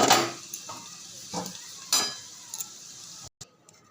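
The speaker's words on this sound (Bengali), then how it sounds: "তাহলে আলুগুলো আমার ভাজা হয়ে গেল এবার আলুগুলো আমি নামিয়ে ফেলব" Potatoes sizzle in a hot pan while a utensil scrapes and stirs in a few separate strokes, close by with no talking.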